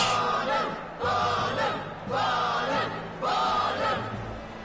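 A courtroom crowd clamors in the video game Professor Layton vs Phoenix Wright: Ace Attorney, rising in four loud bursts of massed shouting and jeering, each swelling and fading over a low background.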